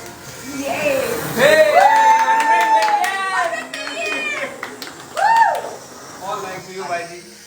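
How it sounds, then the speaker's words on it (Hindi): An audience claps in quick, crisp bursts at a stage event with two Bhojpuri film stars. The clapping runs under a loud, close speaking voice throughout. "अरे ताली वाली बजाते रहते हैं"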